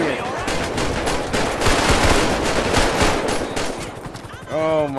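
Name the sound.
robot enemy shooting a gun, from video game GTA 5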